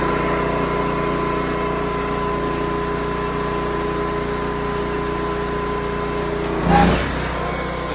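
Engine-powered water pump running steadily through an 8 gallon-per-minute nozzle, a constant humming drone with a brief louder surge near the end.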